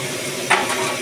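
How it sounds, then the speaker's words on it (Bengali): Spice paste hits hot oil for a Bengali bata fish curry with green banana and drumsticks, giving a close, steady sizzle with a brief scrape of stirring midway and no voices. "এবার আমি তেলের মধ্যে মশলাটা দিয়ে দিয়েছি"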